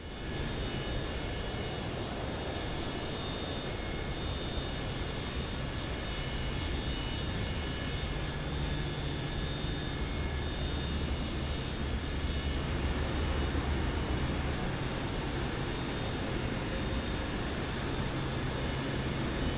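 A Boeing 727 taxis toward the runway in Microsoft Flight Simulator 2024, with a constant loud whining jet engine drone and broadband hiss holding steady throughout.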